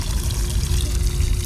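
A budget Coodia pond pump nozzle dribbles water over its outside edge, giving a loud, steady splashing trickle close by with a low pump hum beneath.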